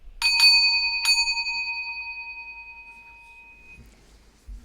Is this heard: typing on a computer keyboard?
no